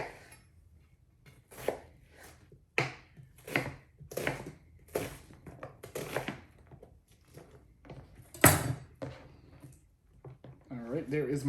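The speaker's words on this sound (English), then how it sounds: "there is my yellow onion cut" A knife rapidly chopping a yellow onion on a cutting board in a home kitchen, a series of quick, loud knocks in irregular bursts, with a person talking at the end.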